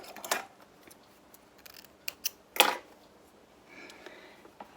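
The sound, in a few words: scissors trimming thread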